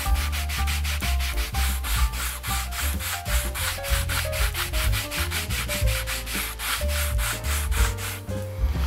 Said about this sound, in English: We can add a little bit more sanding if need be.